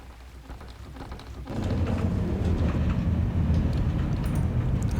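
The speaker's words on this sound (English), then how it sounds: "That is the sound of netherrack being ground." Netherrack ground by a grinding wheel in a Minecraft mod: a loud, continuous rough grinding rumble that kicks in after a quieter start and carries on steadily, noisy and broadband with no talk.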